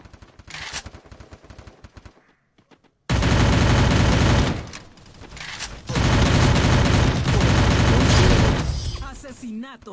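Rapid bursts of gunfire from a shooting video game, a loud sustained volley, a pause, then another long heavy barrage, with a player talking over the quieter stretches.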